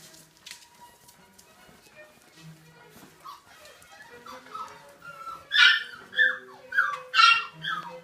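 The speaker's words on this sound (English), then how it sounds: "Here they are, Allie's puppies at 5 weeks of age" Five-week-old British Labrador puppies whimper and yip in a sparse scatter at first, then a run of sharper, louder high yelps comes in close succession.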